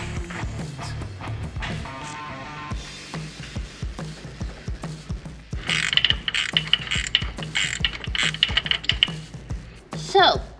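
Ratchet fitted with a 1/8 inch Allen socket loosening the injector drain plugs on a Ford 7.3 Powerstroke diesel, giving a run of quick close clicking strokes with some metallic jingling and handling noise.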